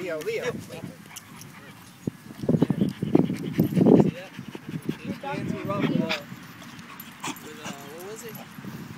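A big Doberman at a park panting and whimpering in short rhythmic bursts close by, mixed with people talking.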